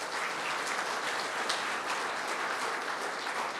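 An audience at a retreat claps in a dense, steady round of applause that stays fairly loud and even throughout.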